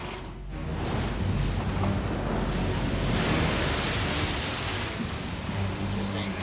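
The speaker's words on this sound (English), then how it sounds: "There's some big waves rolling by." Big ocean waves rolling by off the England shore in a violent storm, a loud, continuous roar of surf and wind filling the whole stretch with steady washing noise.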